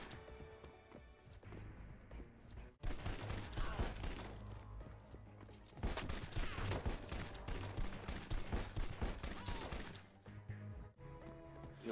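Gunfire in the Xbox 360 game Red Faction: Guerrilla: dense, loud bursts of rapid shots and crashing impacts that run for several seconds, pause briefly, then resume.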